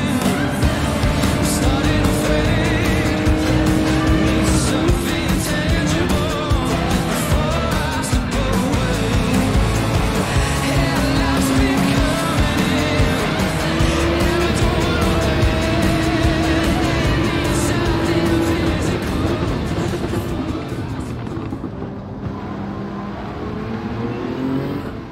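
Race car engines roar continuously in Gran Turismo 7, a dense, loud wall of sustained engine drone with shifting pitch and no talk, thinning slightly near the end.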